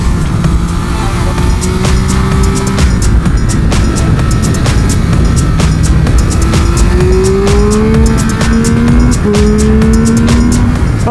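A 2022 Triumph Speed Triple 1200 RR motorcycle roars around a track, its engine note climbing steadily through gears with wind rush, loud and continuous, while a rider talks faintly underneath.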